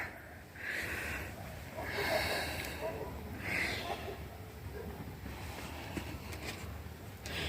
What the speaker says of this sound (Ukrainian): На вулиці вітер сильний.